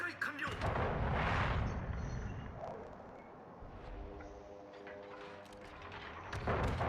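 Naval gunfire in World of Warships, heavy booming salvos rolling out early and again at the end, with a voice talking over the game sounds.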